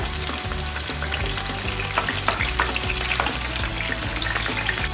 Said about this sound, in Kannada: ಫಸ್ಟ್ ನಾನು ಈರುಳ್ಳಿ ಹಾಕ್ತೇನೆ